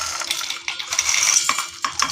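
Roasted lentils tumbling into a mixer jar with a dry, rattling patter of small hard grains, in several quick bursts close up, with no talking.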